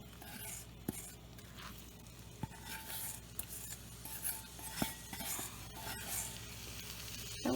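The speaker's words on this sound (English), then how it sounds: "I'm going to go ahead and put it on medium heat and put our apples in." Apples sauté in melted butter in a pan on the stove over medium heat. A soft, steady sizzle runs under occasional sharp clinks and scrapes of stirring.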